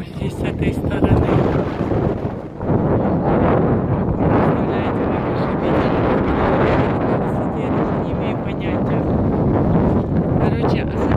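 Outdoors by the Bosphorus near a mosque in Istanbul, strong wind buffets the microphone. The rumble is loud and constant, dipping briefly near the start.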